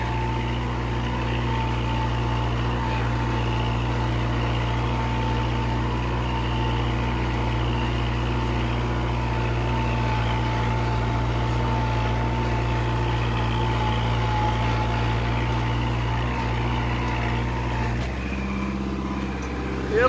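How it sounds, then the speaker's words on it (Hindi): A Kubota 4501 tractor pulling a harrow in low fourth gear drones steadily with a deep, even diesel hum, loud and close, holding a constant pitch for about twenty seconds before a brief shift near the end. "तो भाई अभी तक तो ट्रैक्टर हाई में चल रहा था, बट अब मैं लो में चला रहा हूं, लो के चौथे गियर में।"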